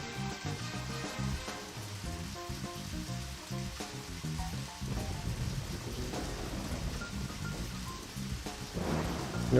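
Rain pours in the video game Deadly Premonition, a steady hiss with low rumbling under layered game music, at moderate level throughout.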